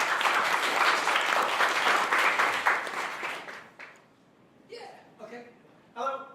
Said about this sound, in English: So let's give a round of applause to Andrew.